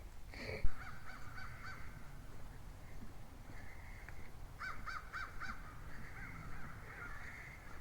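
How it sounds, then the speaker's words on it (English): Several crows caw repeatedly in an outdoor spot, harsh calls coming in bursts at moderate distance over a low background hum, with no one speaking. "The crows are squawking up a storm back here."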